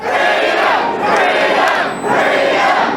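A passionate crowd of protesters marching through city streets, a loud, dense roar of many voices chanting and shouting in continuous waves that swell and dip.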